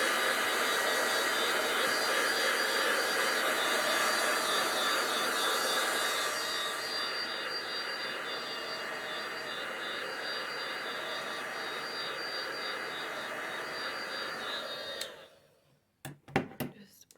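Heat tool blasting air while making a card, a steady loud whoosh for about fifteen seconds that drops in level halfway, then cuts off, followed by a few handling clicks.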